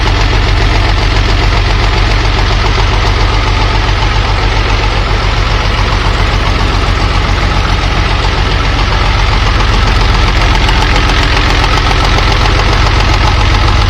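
An old Farmall or Case tractor engine idles steadily and loudly up close, a continuous low knocking rumble holding even for the whole stretch with no pauses.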